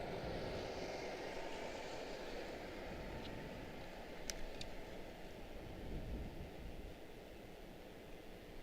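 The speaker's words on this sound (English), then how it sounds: "United 947 out of Amsterdam. Touching down out here." A United airliner arriving from Amsterdam touches down on runway 19 Center at Washington Dulles, heard as a distant, steady broadband jet roar with a wind-like rush, fairly faint and unbroken throughout.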